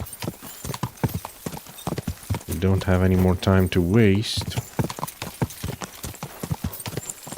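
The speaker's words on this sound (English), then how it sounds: "Why is the horse going like that?" Horse hooves clip-clop in a steady, close, rhythmic trot in the medieval game Kingdom Come: Deliverance 2, continuing throughout while someone speaks briefly over it.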